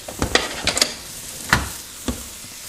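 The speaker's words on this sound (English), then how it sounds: "We'll let the tofu cook just for a few more minutes before we take it off the burner." Tofu in an orange curry stir fry sizzles softly on the burner while a utensil knocks and scrapes the pan in a few sharp, separate strokes, close and without speech.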